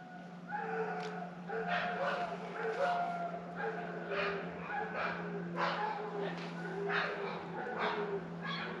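A dog at a mountain lake on a Montana–Idaho hiking trail yips and barks repeatedly in quick bursts, moderately near, with a faint steady hum underneath.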